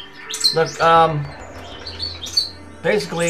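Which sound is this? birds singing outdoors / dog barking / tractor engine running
birds singing outdoors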